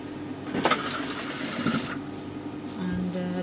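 A sewing machine runs in bursts while stitching a seam near the bottom of a shalwar hem, with a steady motor whir and needle clatter close by, then a pause and a lower hum.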